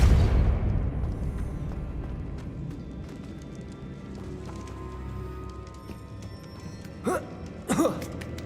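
A Depulso force-push spell fires in the Hogwarts Legacy video game, opening with a loud blast that fades into a long rumbling tail, followed by two sharp impact thumps near the end.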